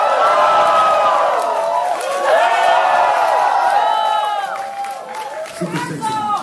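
Concert crowd at a show in MAO Livehouse Shanghai applauding and cheering, a dense loud roar of clapping, whoops and shouts filling the room, easing slightly toward the end.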